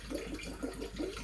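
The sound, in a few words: water pumped through aquarium tank pump outlet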